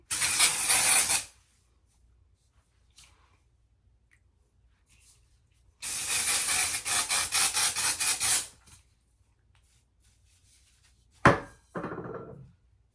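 Dry shampoo hisses from an aerosol can onto a blonde synthetic wig in two long bursts a few seconds apart, followed by a short spritz, with quiet gaps between.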